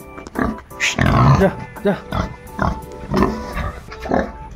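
Pigs in an Assam piggery farm pen grunt and oink repeatedly, close and loud in uneven bursts, with a voice speaking among them.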